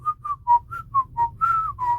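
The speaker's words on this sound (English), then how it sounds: "I'm just whistling." A person whistles a short, close, clear tune of about eight distinct notes, the final two held longer, against a faint low hum.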